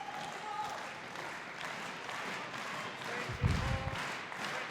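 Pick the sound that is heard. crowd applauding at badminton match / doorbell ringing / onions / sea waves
crowd applauding at badminton match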